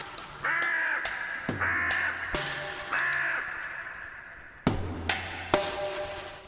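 Several loud, close crow caws in a run of harsh, separate calls with short gaps between them, some coming in quick pairs, heard clearly and alone over a quiet outdoor background.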